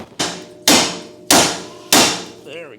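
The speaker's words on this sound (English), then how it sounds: "And again, use our hammer to hit right here." Close, sharp metallic blows of a hammer striking the upper control arm on a 1994-97 Honda Accord: four loud, evenly spaced whacks, each ringing briefly before the next, followed by a faint squeak.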